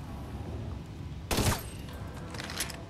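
A single sharp burst of gunfire from The Division 2 video game cracks out mid-clip over a low background rumble, followed by a fainter shot or two afterward.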